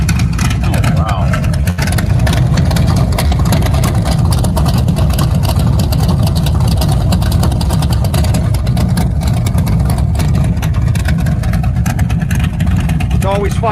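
A muscle car engine revs with its exhaust cutouts open, a loud, continuous roar and rumble throughout, a rough, heavy exhaust note that stays steady without pause.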